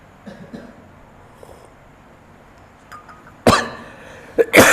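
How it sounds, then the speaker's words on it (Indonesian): A man gives two sharp, loud coughs near the end, one after the other, following a quiet stretch with faint background murmurs. "Batuk dah saya."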